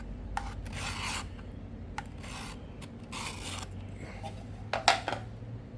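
Short rasping strokes of a file or scraper drawn over a wooden hammer handle, two or three passes in a cluster followed by more, close and fairly quiet with a low steady hum beneath.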